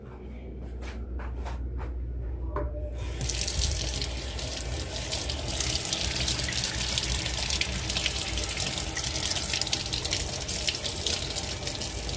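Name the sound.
rinsing a spoon under a running tap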